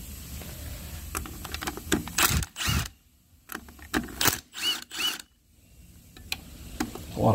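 Loosening T45 Torx bolts on a Ford Focus DPS6 transmission during a teardown produces a series of short metallic clicks and ratcheting bursts, close and fairly loud, separated by quiet gaps.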